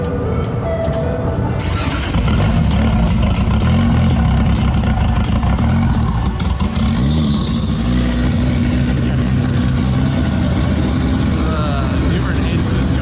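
A rowdy car engine is fired up and revved, then settles into a loud, rumbling, lumpy idle close by that carries on for over ten seconds, with people talking over it.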